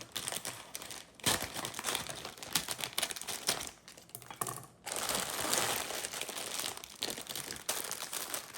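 A plastic salad bag is cut open up close, giving loud bursts of crinkling and rustling with short pauses between them, and no one speaks.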